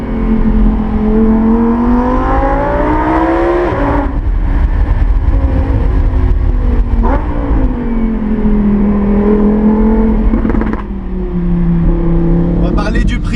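A Lamborghini Huracan Performante Spider's naturally aspirated engine pulls hard through rising, howling revs, with a brief lift near the four-second mark before climbing again, loud and close and unbroken throughout.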